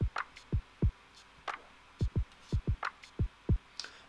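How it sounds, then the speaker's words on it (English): Deep distorted sub bass notes from Ableton's hip hop sub bass synth, drop at 6 and distortion at 2, thump in a short rhythmic pattern of repeated punchy hits with brief upper-harmonic buzz, loud and alone. "just using Ableton's hip hop sub bass"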